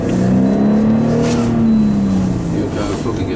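Car accelerating along a test stretch, the engine note climbing steadily in pitch then easing off, loud and close throughout.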